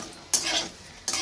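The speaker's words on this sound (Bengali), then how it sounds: "এখন খাওয়ার জন্য ভাজছি।" Onion pakoras fry in hot oil in a pan, a steady close sizzle punctuated by two sharp scrapes of a utensil stirring against the metal.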